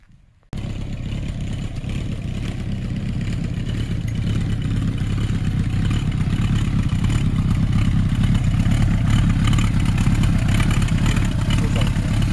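Suzuki GSX-R1100 motorcycle engine idling steadily close by, a continuous low rumble that starts abruptly after a brief quiet moment and holds even for the rest.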